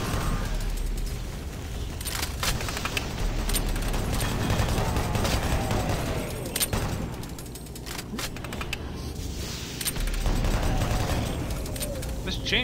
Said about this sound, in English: This chain gun is really overpowered, man.